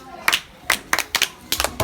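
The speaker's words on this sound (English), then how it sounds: "Clap for him." Several bursts of hand clapping come in uneven groups, sharp and close, with short pauses of quiet between them.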